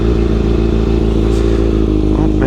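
A ZX motorcycle, recently repaired after a crash, runs with a loud, steady engine drone and rhythmic pulsing, alone and close up.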